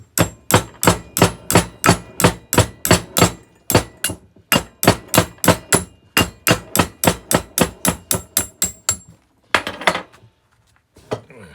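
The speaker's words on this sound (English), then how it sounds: "Sometimes you gotta do the ghastly deed. Use a hammer." A hammer strikes a Kurt 5-inch milling machine vise in fast, loud metallic blows, about thirty sharp evenly paced hits in bursts with brief pauses, ending in a few scattered lighter clanks.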